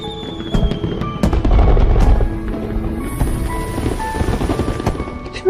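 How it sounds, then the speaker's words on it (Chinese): Fireworks pop and crackle in irregular bursts, with a couple of heavier booms, under sustained tonal sounds like music. "居然有烟花"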